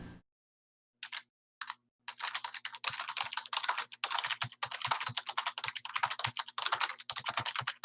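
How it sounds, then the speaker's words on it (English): Loud computer keyboard typing in bursts of rapid clicking keystrokes, close and dry, with a faint steady hum underneath and short pauses between flurries. "your keyboard is loud as fuck"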